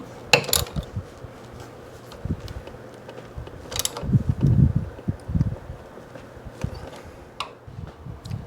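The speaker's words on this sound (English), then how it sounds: "So I'm just going to tighten these down for now" A ratchet snugging down handlebar bolts on a Honda Goldwing during a Helibars installation, with irregular clicks and mechanical rubbing, quiet and close, a short busier burst in the middle.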